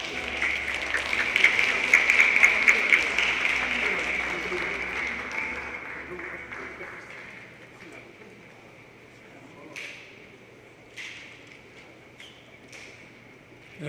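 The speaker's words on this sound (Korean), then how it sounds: "여러분, 큰 박수로 모시겠습니다" Loud audience applause at the Jeju Forum's 20th session fills the hall as the Jeju Special Self-Governing Province council chair is welcomed, then fades after several seconds to scattered claps and room noise.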